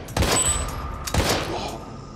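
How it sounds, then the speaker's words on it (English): Two loud gunshots in the survival horror game Daymare 1998, spaced about a second apart, each with a sharp crack and a lingering reverberant tail. "Two shots."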